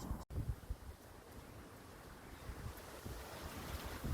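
Gusty wind rumbles and buffets a microphone outdoors in a garden in March, with a soft, continuous low roar and a brief knock at the start.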